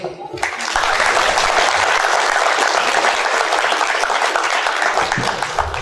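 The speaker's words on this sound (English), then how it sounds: "How about, again, one more round of applause for Payne Bickford and school." A crowd applauds loudly and steadily at a high school signing ceremony, a dense wash of clapping that starts abruptly and holds at full strength throughout.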